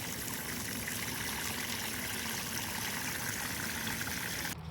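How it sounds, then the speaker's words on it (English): Rainwater from rain barrels pours steadily into a barrel in a garden, a continuous close splashing stream that stops abruptly at the end. "And I am going to add some water to this barrel."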